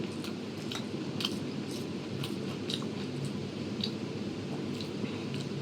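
Someone chews a mouthful of home-made Bengali chowmein cooked with potatoes and turmeric, with soft, wet, steady mastication and occasional crisp bites, close up, under a constant low background hum and no talking.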